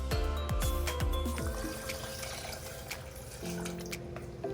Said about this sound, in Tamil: இதுலயே நாம இன்னும் கொஞ்சம் கூட தண்ணி சேர்த்துக்க போறோம்.